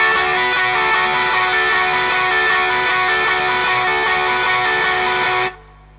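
A steady, bright electric guitar part rings out with evenly repeated strummed or picked chords, loud and close, then cuts off abruptly near the end with no voices.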